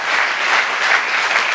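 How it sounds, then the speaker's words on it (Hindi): Enthusiastic audience applause at a seminar on the Sarasvati River in Kaithal, Haryana: many hands clapping in a dense, even, sustained burst that rises and falls slightly, with no talk over it. "मैं निवेदन करूंगा एक बार फिर से इनके लिए जोरदार तालियां बजाकर"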